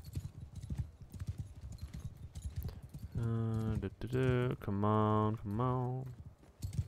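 Horse hooves clip-clopping in the video game Bannerlord, a steady rhythmic trot heard under someone talking, with a few short vocal outbursts breaking in over the hoofbeats.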